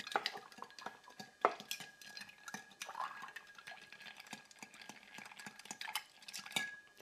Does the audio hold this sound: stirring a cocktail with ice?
yes